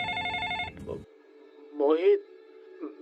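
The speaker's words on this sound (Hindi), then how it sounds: "रात को 3 बजे मेरे फोन पर बबलू का कॉल आया।" Telephone ringing as a horror-podcast sound effect for a 3 a.m. call, a loud buzzy ring cut off after about a second, followed by a voice speaking over a low hum.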